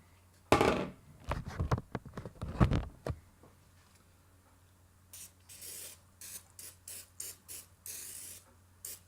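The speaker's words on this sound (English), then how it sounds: "I'll take some cooking spray, spray down my pan." Several short hissing bursts of cooking spray onto a pan, close and fairly loud, following a few louder clattering knocks at the start.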